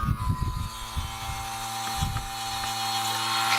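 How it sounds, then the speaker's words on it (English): A vacuum pump evacuating the A/C system of an Isuzu Elf starts with rattling, uneven mechanical clatter, then settles into a steady whirring drone with a clear tonal hum, close and fairly loud, with no talk. "you hear the pump change once I hit it"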